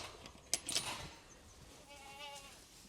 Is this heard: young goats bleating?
yes